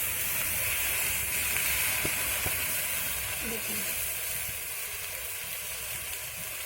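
Potatoes frying in a pan: a steady, fairly faint sizzling hiss that eases slightly toward the end, close by.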